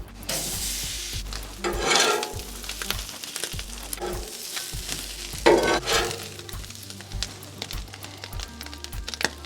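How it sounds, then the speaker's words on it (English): Onions and jalapenos fry for a brisket cheesesteak, a steady close sizzle with intermittent scraping and stirring strokes of a utensil throughout, no voices. "Cook some onions and some jalapenos."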